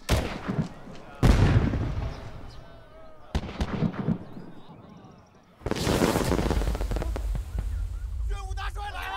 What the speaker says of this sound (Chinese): 大帅每到一个地方前都会放这么一个烟花